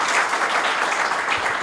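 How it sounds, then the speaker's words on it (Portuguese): Audience at an agribusiness seminar in Paraná applauds the state agriculture secretary, a dense, steady wash of clapping from a large crowd. "Vamos aplaudi-lo"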